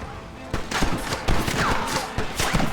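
A Gatling gun in a Red Dead Redemption shootout rattles off rapid bursts of close, loud gunfire, with further shots and impacts layered in the mix.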